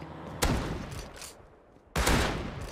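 Two loud, close pump shotgun blasts in Rust, each a sharp boom with a ringing tail, spaced about a second and a half apart.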